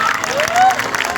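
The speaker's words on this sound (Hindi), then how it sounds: "एक बार तालियां बजाइए इन बहनों के लिए" An audience at a Vishwakarma puja gathering claps for a group of sisters, a brief dense burst of crowd applause under a thin tonal whistle, fairly loud throughout.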